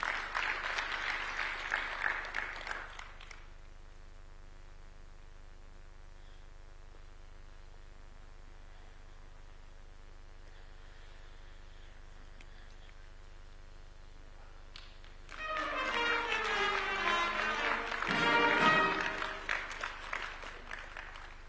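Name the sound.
audience applause for a newly sworn-in judge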